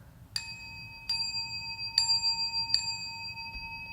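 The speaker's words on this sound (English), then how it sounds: "How many times does the bell ring?" A bell rings four times for a classroom counting game, each clear metallic strike spaced about a second apart and left to ring out, with no voices.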